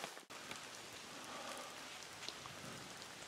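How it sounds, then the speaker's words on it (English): Heavy monsoon downpour at a kayak campsite, a dense continuous hiss of rain pattering on surfaces, steady and close throughout with no voices. "Been a while since I got rained on out in the trip."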